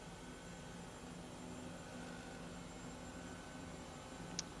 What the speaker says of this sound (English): as you can see, we are pretty much hovering